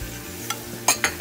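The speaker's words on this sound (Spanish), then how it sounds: "vamos a ir poniendo la harina y vamos a batir con un tenedor" A fork beats flour into melted butter in a pan over high heat, with a soft steady sizzle beneath and several sharp metallic scrapes and clinks toward the end.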